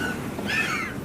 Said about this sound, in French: On entend les cris de ces petits manchots dans le centre de soins de Port Elizabeth